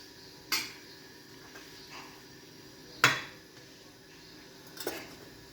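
A cooking pan meets a gas stove as oil heats for bitter gourd curry: three sharp metallic clanks spaced a couple of seconds apart over a quiet background hum.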